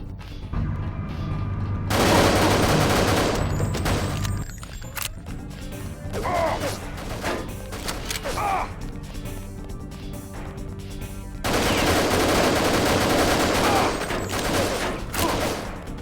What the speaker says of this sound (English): Stop shooting me in the legs, please.